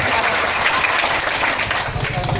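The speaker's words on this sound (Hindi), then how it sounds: "थोड़ा आगे हो देखा तालियां बजाने के लिए।" A crowd at a political party membership gathering claps steadily and loudly, dense overlapping hand claps with a few faint voices mixed in.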